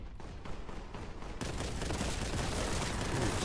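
A plasma gun in the Boltgun shooter fires a rapid rhythmic stream of shots. A fast pulsing burst gives way to a dense, louder wash of continuous fire and crackling impacts.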